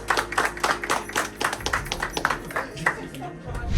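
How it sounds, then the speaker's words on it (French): A football team claps for itself in a changing room after a match, a steady run of close, sharp hand claps lasting throughout, with voices talking over them. "vous pouvez vous applaudir"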